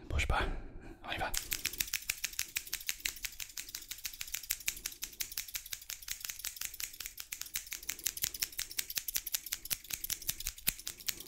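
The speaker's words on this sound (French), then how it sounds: "Avec ces deux paires de ciseaux." Two pairs of scissors snip rapidly in close-up ASMR style, a dense train of crisp metallic cuts continuing almost without pause, after a brief rustle at the start; a soft voice murmurs faintly underneath.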